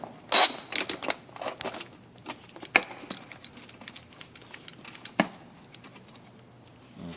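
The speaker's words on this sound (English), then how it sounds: "we're going to remove this nut from the filter housing" Wrench work on the air filter housing of a 1982 Mercedes-Benz 300D turbo diesel gives scattered close metallic clicks and ratchet-like ticks, some sharp bursts, with quiet gaps between and no talking.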